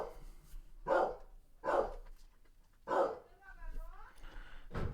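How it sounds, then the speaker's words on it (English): Several loud dogs bark in short bursts close by, with whimpering or yipping between barks, as if squabbling over toys. "Which is, jeez, dogs barking."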